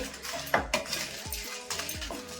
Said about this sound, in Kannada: ಒಣಮೆಣಸಿನ್ಕಾಯಿ ತಗೊಂಡಿದ್ದೀನಿ ಖಾರಕ್ಕೆ, ಇದನ್ನ ಹುರ್ಕೊಂತಾ ಇದ್ದೀನಿ